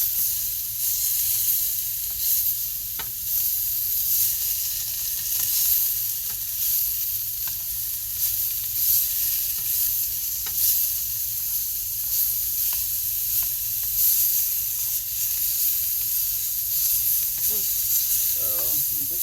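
Onions and ground meat brown in a pan for shepherd's pie, giving a steady, close, bright sizzle that runs unbroken throughout, with occasional soft scrapes and stirring clicks.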